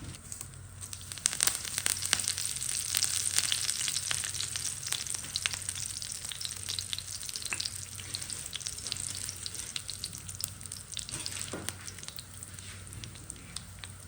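Cinnamon, star anise, cumin seeds and curry leaves sizzle and crackle in hot oil in a pan, a close, continuous fry with scattered sharp pops and occasional stirring.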